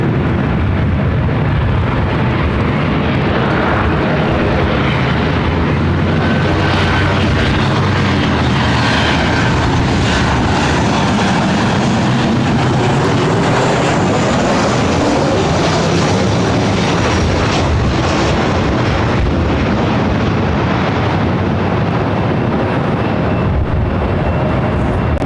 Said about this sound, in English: Emirates is now rolling.